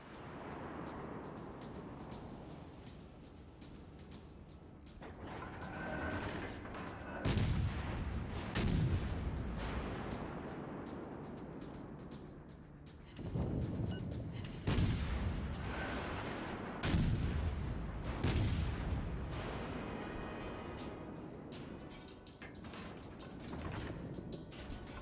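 Heavy naval guns on a warship in World of Warships: Legends fire in repeated booming salvos, several loud blasts spaced a few seconds apart over a constant rumbling engine and sea bed, with no talk.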